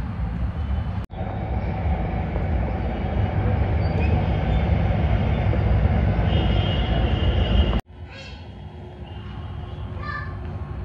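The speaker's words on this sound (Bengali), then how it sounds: "মেট্রোটা যায় না, দেখতে কি দারুণ লাগে।" A metro train rolls past, a steady loud rumble of wheels and carriages filling most of the stretch, cutting off sharply and giving way to quieter background with faint squeaks.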